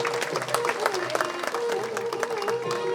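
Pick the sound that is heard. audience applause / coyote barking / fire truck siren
audience applause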